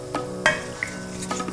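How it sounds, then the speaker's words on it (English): Cinnamon stick and bay leaf frying in sunflower oil in a pan, a soft, quiet sizzle broken by a few light stirring clinks and scrapes, with no talking. "You can see the cinnamon stick starts to sizzle around the edges."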